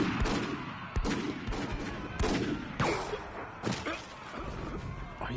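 Rapid gunfire crackles through an anime film battle, with sharp bursts and impacts repeating loudly and close for the whole stretch, rough and dense like a firefight in progress.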